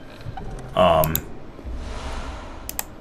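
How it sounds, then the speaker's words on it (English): A short, sharp burst of computer mouse clicks near the start, followed by quiet room tone with faint ticks. "if you hear mouse clicks, it's because I just wanted to check to see"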